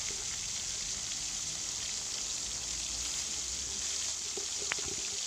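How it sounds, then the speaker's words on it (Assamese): Small fish frying in hot oil in an Assamese home kitchen, giving a steady, soft crackling sizzle throughout with a faint clink near the end. "তেলখিনিও গৰম হৈ গৈছে তো মাছখিনি এতিয়া মই ভাজি লৈছোঁ"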